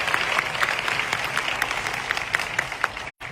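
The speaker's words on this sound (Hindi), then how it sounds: "वो तालियां सभी दोस्तों के लिए होनी चाहिए" An audience at an IMC business event applauds steadily, a dense even clatter of many hands that cuts off sharply near the end.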